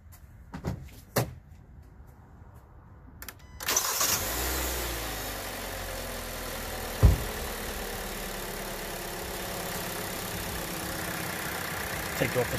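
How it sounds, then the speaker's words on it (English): A Hyundai car engine cranks and catches after a couple of clicks and a short pause, then settles into a steady idle with one brief knock partway through; no talk. "Let's go start it up."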